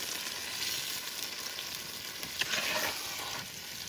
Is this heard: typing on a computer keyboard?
no